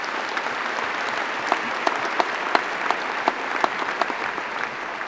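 Audience applause for graduates at a university graduation ceremony in a large hall, steady dense clapping from many people with a few sharper claps standing out, continuous and moderately loud throughout with no talking.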